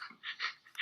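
A dog pants in a few quick, soft, breathy puffs close by, brief and faint.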